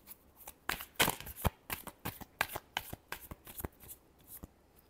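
Tarot cards being shuffled up close: quick riffling bursts and soft papery slaps in an uneven rhythm, fairly quiet with no talking.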